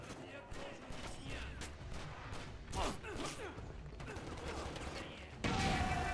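Bursts of gunfire crackle through the game Stranglehold as rapid shots and clattering mechanisms over a busy action soundscape. A voice talks at moments, and a louder stretch of fire comes in at the end.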